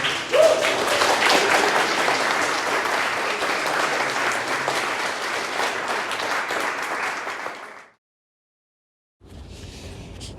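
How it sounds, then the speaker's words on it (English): A crowd applauds loudly and steadily for about eight seconds, then stops abruptly; after a short silence, faint background noise returns. "Please get a round of applause for everyone."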